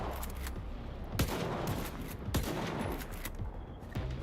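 Gunfire in the shooter S.T.A.L.K.E.R. 2: Heart of Chornobyl, several sharp distinct shots with ragged bursts against a steady noisy background, moderately loud, no speech.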